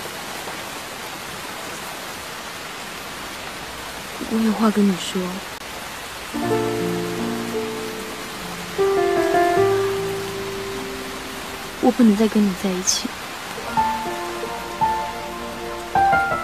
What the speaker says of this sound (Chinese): 干嘛在这里淋雨啊？